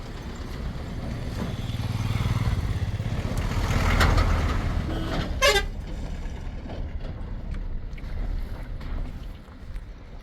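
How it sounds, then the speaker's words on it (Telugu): A lorry rumbles past on a high mountain road near Khardung La pass in Ladakh, its engine swelling and fading, with a brief horn toot midway and wind noise throughout; no talking. "ఓ షట్, లారీ వచ్చేసింది"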